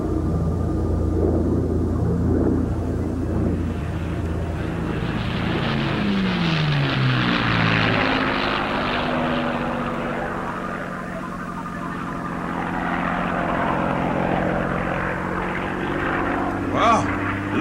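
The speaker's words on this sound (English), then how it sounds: "they still use propellers to push the air backwards to make the plane move forwards" An early propeller aeroplane drones steadily overhead, a loud continuous engine and airscrew roar whose pitch slides down as it passes, filling the whole stretch.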